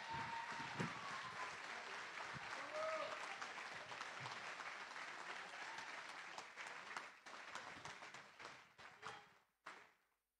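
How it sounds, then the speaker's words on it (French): Crowd applause for the winner of the first Conquérante trail race at the Chaumont Urban Trail, steady clapping that holds for several seconds, then thins into scattered claps and fades out near the end. "avec les applaudissements du public"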